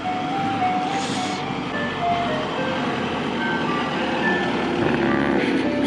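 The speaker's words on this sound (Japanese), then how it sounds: "なんか来たぞ。 ゴミ車だ。" Garbage truck on a small island street in Okinawa, its reversing beeper sounding in steady repeated tones over a continuous engine rumble, fairly near and persistent throughout.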